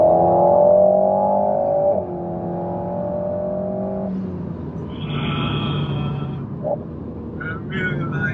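An Alpine A110 sports car accelerates hard. The engine note climbs steadily, steps up through gear changes and rises again, heard from inside the cabin under a steady road roar.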